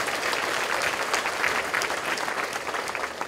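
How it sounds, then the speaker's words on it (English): Audience at an annual meeting gives a round of applause for the board, a sustained wash of many hands clapping at close to even loudness throughout. "let's give them one more round of applause"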